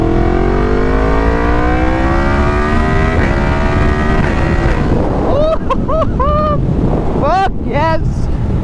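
A motorcycle on the move, its engine rising in pitch through a run of revs before short blipping bursts, close and loud, with wind rushing over the microphone the whole time.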